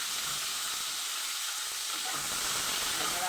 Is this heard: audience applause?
no